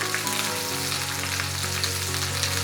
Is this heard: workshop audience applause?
no